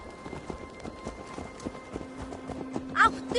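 Horse hooves clip-clop at a steady walking rhythm in Assassin's Creed Valhalla, a moderate repeated thudding under a low ambient hum, with a brief brighter chime near the end.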